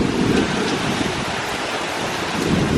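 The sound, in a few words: heavy rain during Hurricane Delta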